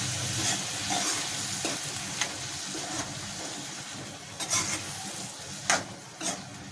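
Moth beans fry in a pan for a curry, a low continuous sizzle close by with occasional soft scrapes and knocks of a stirring spoon.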